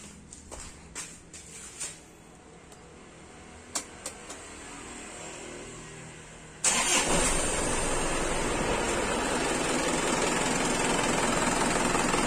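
A car fitted with a turbo timer sits quietly with a few small clicks, then its engine cranks and catches about halfway through and settles into a steady, loud, close idle that runs to the end.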